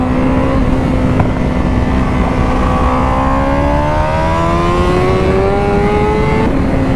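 A Honda British Superbike of about 240 bhp, run with no rider aids, howls at speed. The loud engine climbs steadily in pitch, drops briefly and rises again, with no talk over it.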